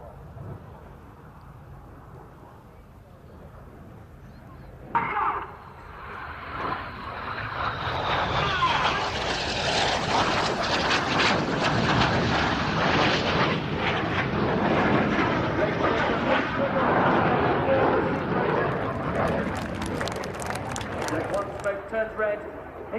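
Red Arrows RAF jets at an airshow display roar in for the opposition barrel roll, a low rushing approach swelling into a loud, sustained jet roar that stays heavy to the end, with a commentator talking over it.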